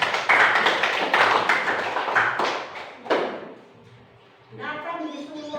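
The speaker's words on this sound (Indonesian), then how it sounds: "Bagus, tepuk tangan" Children clapping briefly in a Sunday school lesson, a burst of quick, close claps and taps for about three seconds that fades out before voices resume.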